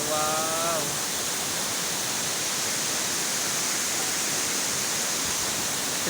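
Tumpak Sewu waterfall in Pronojiwo, a loud, steady broadband roar of falling water filling the whole stretch. A brief voice is heard at the very start.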